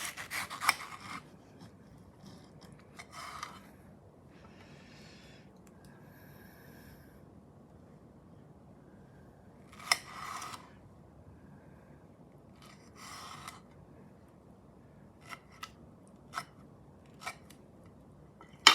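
A fibrous, commercially grown Mexican mango from a farmer's market being cut and bitten, giving sparse, faint scraping and tearing sounds separated by long quiet gaps.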